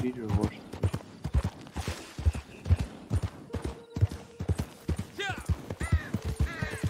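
Horse hooves clip-clop at a steady walking rhythm in a Wild West video game, close and distinct, with a brief whinny-like call near the end and a person talking over the hoofbeats.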